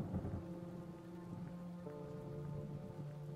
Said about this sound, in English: through the dying light and falling rain she walked